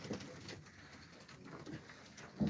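Soft, low cooing from a crested domestic pigeon, faint and close, rising briefly at the start and again louder at the end over a quiet background.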